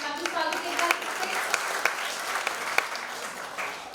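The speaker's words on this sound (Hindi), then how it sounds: "जोरदार तालियों से स्वागत एक बार से।" A steady, full round of audience clapping greets the judges at the Udaan Idol Little Champs grand finale in Mumbai, with some sharper individual claps poking through and faint talk beneath.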